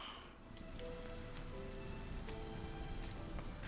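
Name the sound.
rain effects in the video game RIME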